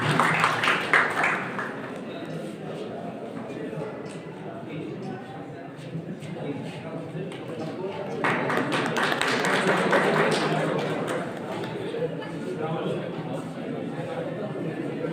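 An audience breaks into applause at a Hindi honouring ceremony with poetry recitation, a dense wash of clapping that swells midway, with voices and chatter mixed in.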